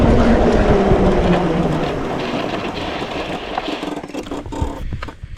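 A Hovsco HovGTRS electric bike rolling fast downhill on a dirt road at night, loud continuous rumbling tire and wind noise that gradually eases, with crunching gravel toward the end.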